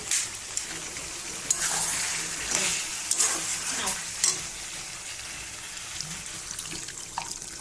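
Water pours into a pot of meat curry, a hissy splashing gush with scattered clinks of a spoon against the pot and some sizzling, close and fairly loud, with no one talking.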